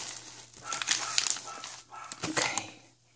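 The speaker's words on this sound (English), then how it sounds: "Sorry for the barking in the background" A dog barks repeatedly in the background, a few muffled yaps rising and falling over a low steady hum, somewhat distant.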